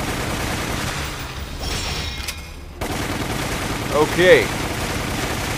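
Gunfire from the video game Resident Evil: The Umbrella Chronicles, with a noisy stretch of shots and a few brighter bursts near the end, heard under steady game noise while a voice says a brief word.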